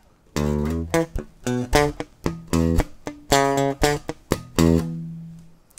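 Bass guitar playing a short lick of plucked notes mixed with muted, percussive ghost notes, played alone in a steady rhythmic phrase that ends on a sustained low note.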